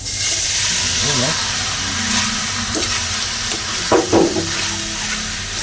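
Pork large intestine frying in its own rendered fat in a pan, a loud steady sizzle and hiss with occasional scraping of stirring utensils, and a voice speaking briefly over it.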